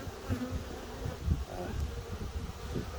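Russian honey bees buzzing around a hive, a steady close drone with small fluctuations in pitch and loudness, no voices, lasting about three seconds.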